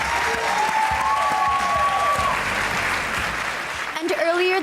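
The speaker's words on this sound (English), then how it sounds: "Come on, guys, give them a big round of applause." A school spirit awards show audience applauds loudly and steadily, with a bright whistle or tone rising briefly over the clapping near the end.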